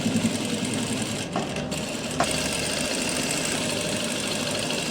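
A sewing machine stitches the hem of a plazo bottom, running as a dense, continuous mechanical whir at steady loudness with a couple of tiny breaks, and no voices.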